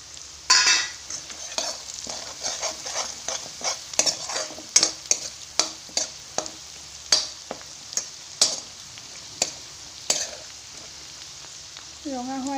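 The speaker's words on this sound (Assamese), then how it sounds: "ৰঙা হোৱালৈকে ভাজিব অলপ পিঁয়াজখিনি" Onions with turmeric and spices stir-fry in a pan, a constant sizzle broken by a regular series of sharp spatula scrapes and clinks against the pan; close and clear, with a faint tonal sound at the end.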